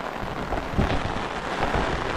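Heavy monsoon rain pours down over paddy fields in a Konkan village, a loud, continuous hiss of falling water with a few low thumps and rumbles.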